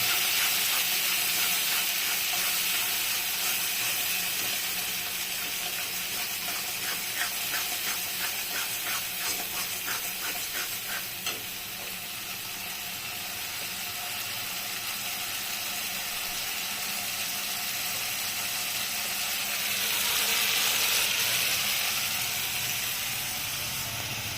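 Prawn curry masala with cashews fries in oil in a pan, giving a steady, loud, continuous hiss and sizzle with faint scraping as it is stirred, swelling briefly near the end.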